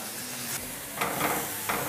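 Onions and pine nuts being stirred in a hot frying pan, a close, steady sizzle with a few swishing scrapes of the spoon and no voices.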